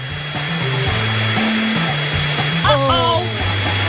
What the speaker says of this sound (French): Mon sèche-cheveux super puissant va tout réparer.